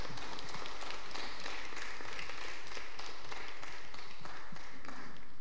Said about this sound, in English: let's applaud these folks starting off their new journeys